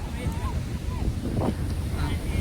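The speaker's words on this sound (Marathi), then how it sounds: "वारा डेंजर आहे." Strong wind buffeting the microphone at a seashore, a constant heavy rumble with surf washing underneath and faint voices in the background.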